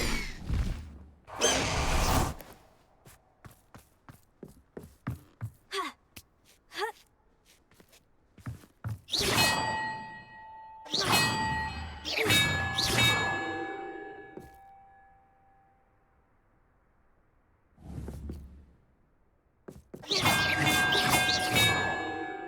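Bells are struck in Hogwarts Legacy: after a run of soft footsteps, several clanging strikes ring out with lingering metallic decay, then a final cluster of bright, overlapping rings.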